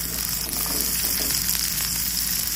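Egg and okra fry in hot oil in a pan, giving a steady, close sizzle with a dense, even hiss that runs unbroken throughout.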